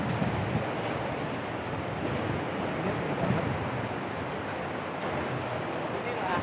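Ocean waves roll onto a beach at Pantai Sine, a wide shore beside a cliff where the surf runs large, making a steady broadband wash with wind noise on the microphone throughout.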